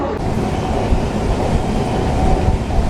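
A passenger train on the Kolkata to Dhaka line runs at speed, a loud, continuous rumbling roar of wheels and carriage with no break, heard from on board.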